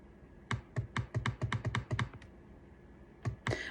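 Quick bursts of typing on a computer keyboard, about a dozen close, crisp keystrokes in an uneven run, then a pause and a final pair of taps, with no talking.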